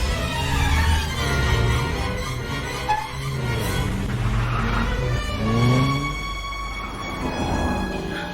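A film chase scene puts an auto-rickshaw under hard driving, with loud, continuous engine roar, rising revs and sweeping pitch changes throughout and no voices.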